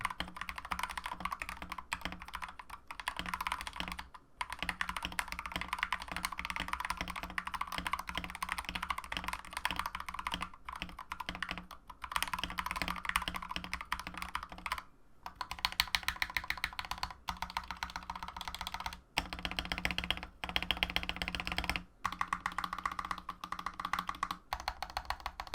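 Someone types fast and continuously on a Gamakay LK67 mechanical keyboard with lubed stabilizers and pads on the spacebar. Dense, close clacking keystrokes pour out in a steady stream with only a few brief pauses.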